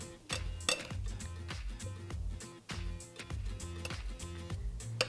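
Cooked rice with grated carrot is spooned into a metal cupcake tin, metal spoon clinking and scraping against the pan in a quick run of sharp taps and scoops, close and clear with no talk.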